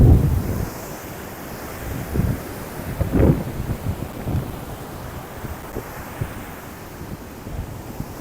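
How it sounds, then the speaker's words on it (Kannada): Ocean waves roll and break on Patong Beach in Phuket at high tide: a heavy surf crash opens, then further low, rumbling breakers wash in under steady wind buffeting the microphone. "ನೋಡಿ ಎಲ್ಲಿ ತನಕ ಬರ್ತಾ ಇದಾವೆ ಅಲೆಗಳು."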